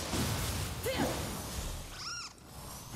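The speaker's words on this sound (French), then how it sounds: "Laisse le chat tranquille toi." A cat gives a single short meow, rising then falling, over a dense wash of background noise.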